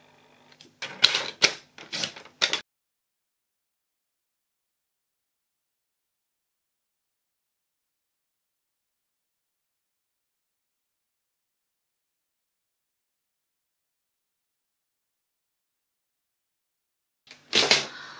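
A sheet of designer paper is trimmed with a cutter, giving a short burst of sharp clacking and slicing sounds, then long silence before another brief burst at the end.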